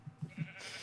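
Sheep bleating in the Minecraft video game, on a superflat survival world with a multi-colour sheep farm: three short, close bleats in quick succession, with no other sound.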